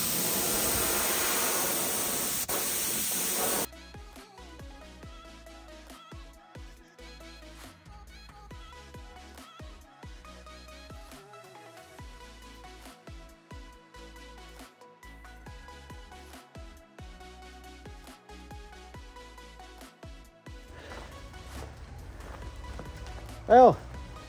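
A spray gun lays paint with hardener onto a new trailer, giving a steady, loud hiss at the start. It then drops to a softer, continuous background noise broken by scattered knocks.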